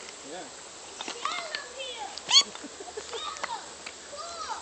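Little peeper chick chirping, a series of thin high peeps scattered irregularly, fairly close but soft, with quiet background between calls.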